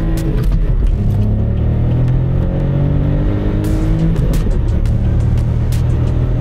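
Small VW Up on winter tires taking a corner: a loud, close, continuous engine drone with shifting revs and road rumble throughout, with no voices.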